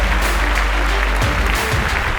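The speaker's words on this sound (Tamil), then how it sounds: "Dr. Don Mr. Indrajit அவர்களை ஒரு பெரிய கைத்தட்டலோட வெல்கம் பண்ணிடுவோம்" An audience claps loudly and steadily to welcome a guest on a health talk show, a dense, sustained wash of applause.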